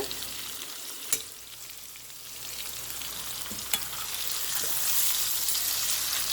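Pumpkin pieces sauté in a pan with a soft, steady sizzle and a couple of sharp stirring knocks, quiet and close, with no talking.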